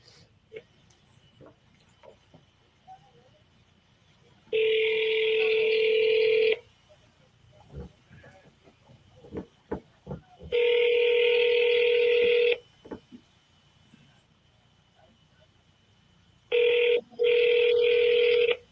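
An outgoing phone call rings unanswered, with three loud electronic ringback tones of about two seconds each, separated by long quiet gaps holding faint clicks and handling noise.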